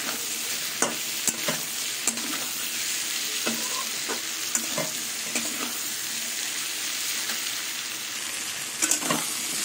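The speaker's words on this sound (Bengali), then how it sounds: "হলুদ দিয়ে আর একটু ভাজা করে নেব।" Turmeric sizzles and fries in a hot pan with spinach-like pumpkin greens cooking, a steady crackling hiss broken by occasional clinks and scrapes of a stirring utensil, close and alone without talk.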